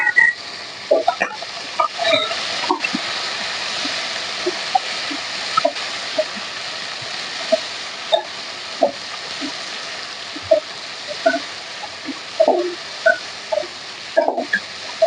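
Sliced onions and green chillies frying in a pan, a soft steady sizzle with scattered stirring clinks and scrapes throughout, close by and without speech.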